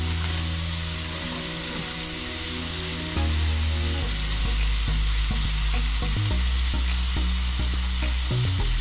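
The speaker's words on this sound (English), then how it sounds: "They cook for 2 minutes, and then we'll flip them over and baste the other side" Lobster sizzles in a pan of butter while being basted, a dense steady frying hiss over a low hum that rises partway through, with scattered spoon clinks and taps.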